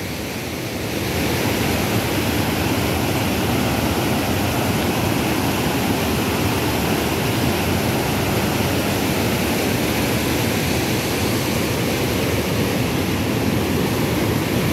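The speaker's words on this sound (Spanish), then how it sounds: "Allá al fondo se genera la gran cascada." Heavy rushing water pours over a large waterfall at the Loreto dam in San Marcos, swollen and near bursting; a loud, steady broadband roar fills the scene continuously from start to finish with no voices.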